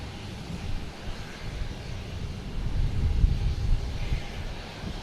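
Airliner flying overhead on final approach at Boston Logan Airport: a low, steady rumbling engine roar that swells slightly as it passes near, heard alone with some wind.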